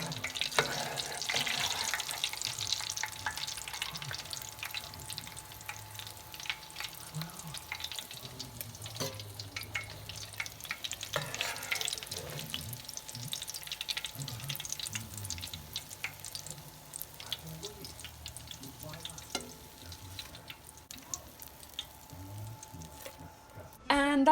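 Battered cauliflower fries in oil with a soft, continuous crackle and hiss, punctuated by occasional light clinks and clatters of utensils.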